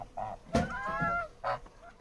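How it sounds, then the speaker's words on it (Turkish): Geese honk loudly and close by on a farm, a few harsh calls and a run of nasal, wavering honks, with faint farmyard noise between them. "Kazlarımız da böyle."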